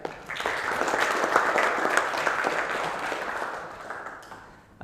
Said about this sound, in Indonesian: Beri aplaus untuk teman kalian